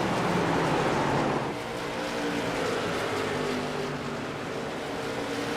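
Late model stock cars race on the Nashville speedway in a three-car battle into the turns. Loud, sustained engine roar holds throughout, dipping slightly after the first second as the pack moves off, with no talk.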